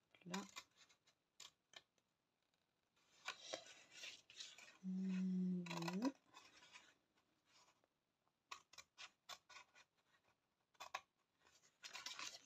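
Scissors snipping paper for a handmade happymail craft box. Quiet, close, irregular short cuts and rustles are heard, with a brief low hum in the middle.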